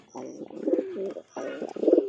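Giribaz and Madras pigeons coo up close in two rolling, throaty bouts separated by a short pause, each one swelling in loudness toward its end.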